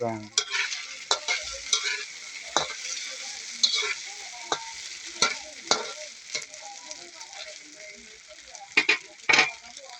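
Food for a sepo egg dish fries in a pan, with a quiet sizzle under repeated sharp scrapes and clinks of a utensil stirring it, spaced irregularly over ten seconds.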